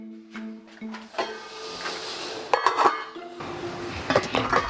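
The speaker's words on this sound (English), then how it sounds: "So let's put the lid back on and keep cooking." Metal lid set down on a soup pot, a few sharp clanks and ringing rattles against the rim, close and bright, amid clinks of cookware and a low steady hiss of the stove.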